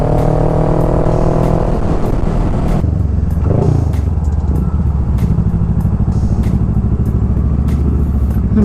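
Motorcycles and cars pass in close road traffic, a loud steady engine rumble with shifting revs and clattering, a heavier motor dropping away partway through.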